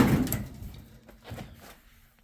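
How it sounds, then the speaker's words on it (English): The door of a 1968 Chevelle car is opened in a garage: a latch clunk and thump at the start, then softer creaks and knocks as it swings, fairly close and moderately loud. "Let me just open this door and I'll show you."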